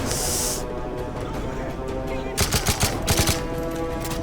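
Gunfire in Call of Duty Modern Warfare 3, a brief hiss followed by a burst of rapid automatic shots, loud and close, over a dense game soundtrack.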